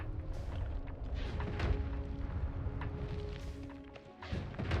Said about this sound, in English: if I cast it again, you'll see it completely blows up the previous rock